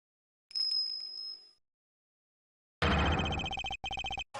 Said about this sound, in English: Is that a bell?